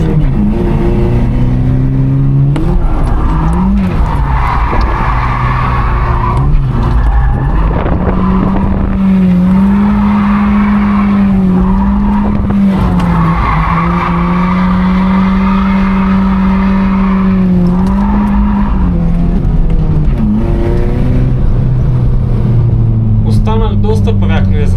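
A car's engine hums and revs steadily during a test drive at Burhovo, the pitch rising and falling through gears for the whole stretch, loud and close, with a voice talking over it.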